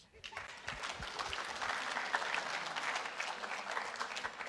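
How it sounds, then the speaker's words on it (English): Crowd clapping at a university entrepreneurial fair session, a steady moderate wash of applause that rises quickly and holds, with a voice faintly audible underneath. "give a clap, please"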